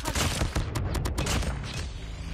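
GKS submachine gun in a first-person shooter: loud, close bursts of rapid gunfire with sharp repeated cracks and booming tails that run together across the whole stretch.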